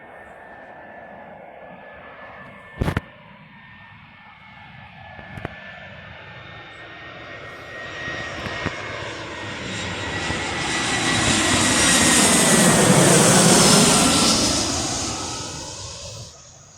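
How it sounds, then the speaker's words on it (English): An EasyJet Airbus A319 jet comes in overhead, its engine roar building from a distant whine to a loud broad rush that peaks near the end, with a few sharp clicks early on and no talk. "is it an A319 plane? I think it's EasyJet that we're dealing with"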